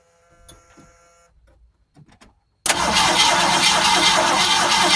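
A 1971 Ford Torino engine cranks hard and steadily without catching, a loud continuous starter whir that begins abruptly after a few seconds of faint handling noises.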